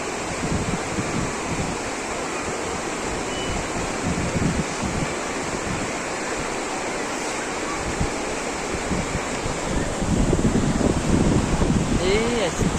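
A clear mountain stream at Besh-Tash in Talas rushing steadily, a loud continuous broadband roar close to the microphone that swells louder toward the end.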